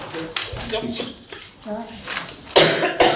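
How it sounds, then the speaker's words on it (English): A person coughs in several harsh bursts during a council meeting, with brief mumbled speech between them and louder coughs near the end. "Sorry about this, I've got a coughing fit."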